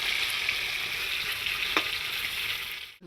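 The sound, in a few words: fish frying in a pan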